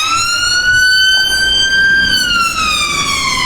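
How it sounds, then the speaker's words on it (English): An ambulance siren wails loudly and close, a steady rising and falling tone that fills the whole stretch without pause, with no talking over it. "Oh, it's an ambulance."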